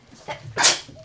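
A single sharp human sneeze bursts out close by, preceded by a short intake of breath, then fades quickly.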